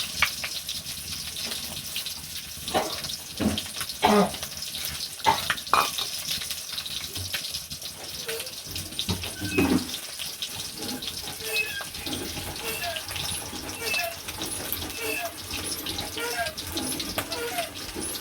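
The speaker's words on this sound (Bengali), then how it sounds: "তো এখন হালকা একটু জল দিয়ে মাখিয়ে নিই।" Tap water runs and splashes as it is added to raw fish mixed with salt, turmeric and chili, a steady close gush with handling noises and a voice faintly in the background.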